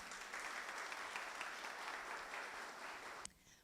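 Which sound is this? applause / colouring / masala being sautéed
applause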